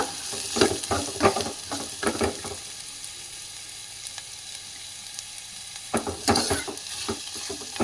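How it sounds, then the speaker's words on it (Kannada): Finely chopped onion sautéing in a pan for a fenugreek-leaf sambar, a steady close sizzle with clusters of stirring scrapes at the start and again near the end. "ಈರುಳ್ಳಿಯನ್ನು ಸ್ವಲ್ಪ ಬಾಡಿಸ್ಕೊಳ್ಳೋಣ"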